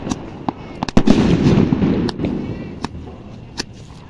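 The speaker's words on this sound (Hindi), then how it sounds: "जंपर को जला के देखते हैं।" A jumper firecracker lit and going off outdoors: a hissing, crackling burst swells for about two seconds, punctuated by sharp pops and cracks that continue sporadically as it fades.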